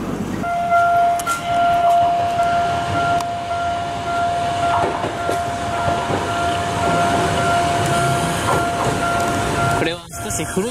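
An old three-window Randen Arashiyama line tram car, running as a two-car set, passes close by with a steady rolling rumble and a sustained electric whine, fading near the end.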